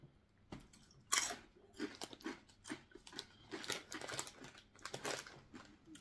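Crunchy fried pork fat strips (Mr. Pork Crispy Strips, essentially crisp pork fatback) being chewed close up, a steady run of crackling bites and crunches with no talking.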